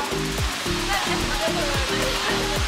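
Tallest waterfall in St Vincent, a loud, continuous rushing roar of falling water filling the scene, with a voice talking over it in a steady rhythm of phrases.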